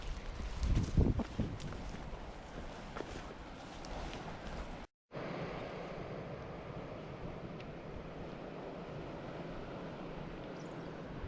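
Surf washes onto a small beach beside a sea cave on the Scottish coast, a faint, steady hiss of breaking water mixed with wind buffeting the microphone, with one brief dropout midway.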